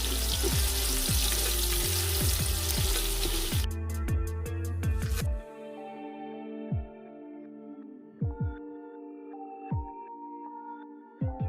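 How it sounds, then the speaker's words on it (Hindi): Chopped onions fry in hot oil for a Hindi-style chicken yakhni pulao, a dense close sizzle for about five seconds that then cuts off, leaving quieter tonal notes and occasional soft knocks. "प्याज को आपने तब तक फ्राई करना है जब तक इसका कलर जो है वो गोल्डन ब्राउन ना हो जाए।"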